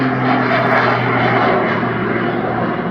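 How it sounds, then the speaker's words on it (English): An air show aircraft with both a piston propeller engine and jet turbine engines drones loudly and steadily overhead, a continuous roar with a humming propeller tone and no talk. "operate both the piston propeller engine and the jet turbine engines together at the same time."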